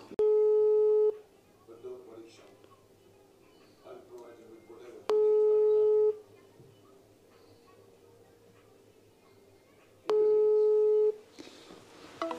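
An unanswered phone call gives three long, steady ringback tones, each about a second, spaced roughly five seconds apart, with quiet room noise and faint voices in the gaps.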